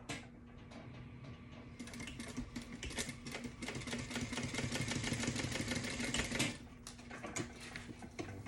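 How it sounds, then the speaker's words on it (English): A sewing machine runs steadily as it top stitches an opened seam on a Georgina convertible tote bag, a dense mechanical whir that swells for several seconds and then drops back to a quieter hum. "we're going to do a nice top stitching in there"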